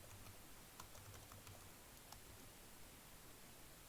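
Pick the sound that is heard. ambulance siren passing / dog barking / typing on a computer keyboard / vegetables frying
typing on a computer keyboard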